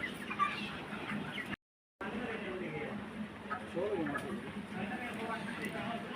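Poultry chickens cluck and murmur continuously in a shed during extreme heat, a dense flock chorus heard close, with someone speaking over it and a brief dropout partway through.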